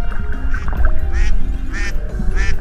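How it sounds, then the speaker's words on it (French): Duck quacking in a hide-and-seek video game: four loud, evenly spaced quacks over a busy background of game sounds and music. "Tout le monde va croire qu'il y a un canard dans l'eau qui est en train de nager paisiblement."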